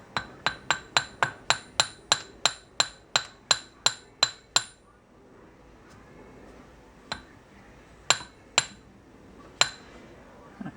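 A brass drift is tapped lightly and rapidly on a Datsun truck kingpin during a rebuild, giving a quick run of about fifteen even metallic taps, then a pause and a few spaced taps.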